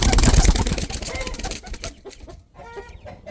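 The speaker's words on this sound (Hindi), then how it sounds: "मुर्गी दाना भी खा रही है, मुर्गी अपनी ज़िंदगी में खुश है" A hen clucks and pecks at grain close by, giving a busy burst of clucking and scratching that fades into quieter, scattered clucks.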